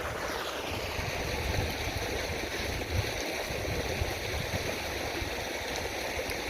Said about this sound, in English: I made it to a river. It's called a creek on the maps,